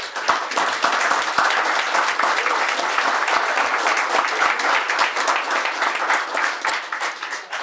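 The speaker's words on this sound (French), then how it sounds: "Une bonne main d'applaudissements, s'il vous plaît." A city council session fills with a steady round of applause, dense overlapping hand claps sustained evenly and loudly from start to finish with no one speaking over it.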